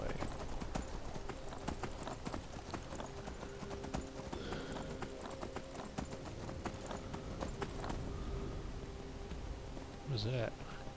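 Horse hooves clip-clop in a steady rhythm throughout Skyrim gameplay, a continuous near trotting patter with a brief whinny near the end, mixed over game ambience.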